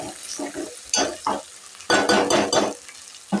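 Masala frying in a pan for a potato curry, with bursts of sizzling and stirring scrapes from a spoon against the pan in short irregular clusters, close and clear, with no talking.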